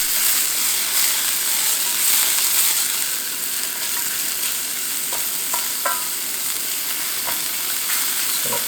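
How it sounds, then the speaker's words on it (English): Mushrooms fry over high heat in a pan with a steady loud sizzle and crackle, broken by a few small scraping stirs and clicks. "A high heat I find is really good with mushrooms to get some of that nice browning on the outside"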